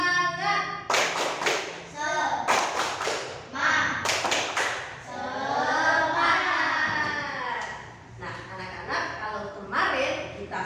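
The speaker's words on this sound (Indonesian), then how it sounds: "Kita tepuk semangat dahulu, oke?" A class does the 'tepuk semangat' clapping game, a series of sharp hand claps and taps in quick rhythmic bursts, with chanted voices over and between them.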